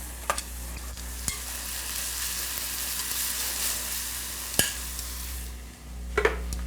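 Onions fry and sizzle steadily in a pan for a curry, a continuous broadband hiss close by, with a few sharp clicks and scrapes of stirring near the start and end.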